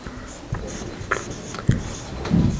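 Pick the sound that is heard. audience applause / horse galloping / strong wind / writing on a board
writing on a board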